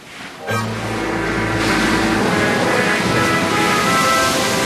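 Ocean waves at a beach, a steady loud surf wash that swells in after a brief quieter opening and stays full, with no talking.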